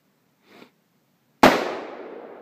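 AR-15 rifle shot outdoors, a single loud, sharp crack with a trailing echo, preceded by a soft faint click.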